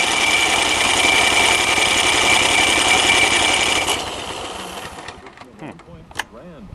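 A snowblower engine cranks up and runs with a loud, steady buzzing drone for about four seconds, then drops in level and sputters unevenly as it settles, with voices briefly heard near the end.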